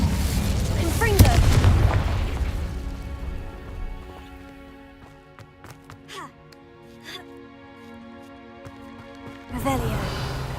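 A Confringo blasting spell in Hogwarts Legacy bursts in a loud booming explosion near the start, then fades into quieter magical chimes and tonal effects before a second heavy blast near the end, with a player's voice between.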